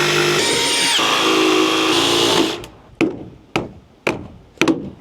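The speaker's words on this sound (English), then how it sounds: "get our jigsaw, and cut it out." A jigsaw cuts through a wooden 4x4 while a kids' playhouse railing is being built, giving a loud, steady buzzing saw run for a couple of seconds that then stops, followed by several sharp, evenly spaced knocks.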